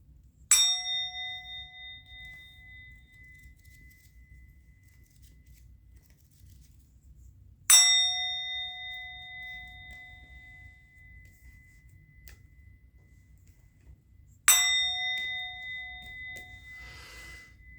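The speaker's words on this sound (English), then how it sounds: "I'm going to ring the bell." A bell rings three times in a quiet room, each strike a clear bright metallic ding that hangs and slowly fades, spaced about seven seconds apart.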